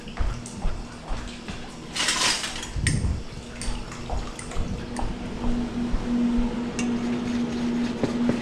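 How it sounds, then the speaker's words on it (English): A whisk beats spaetzle batter of egg, flour, milk and a pinch of salt in a bowl, with repeated clinking and scraping against the sides, loud and close, alongside a steady low hum. "We're gonna whisk this all together."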